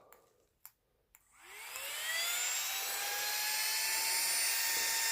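Small battery-powered pump inflating a hiking sleeping pad: after a couple of faint clicks it spins up into a steady, close, high-pitched whirring drone that rises in pitch and holds, alone without talk.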